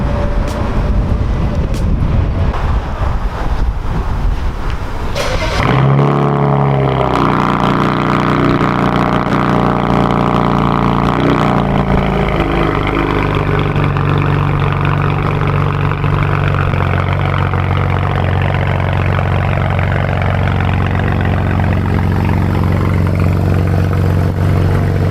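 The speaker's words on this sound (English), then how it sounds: "The car is running good, running faster than it was before." A BMW 335i with stage 2 turbos fires up after some clatter and settles into a loud, steady idle, the engine rumbling continuously up close with no voices over it.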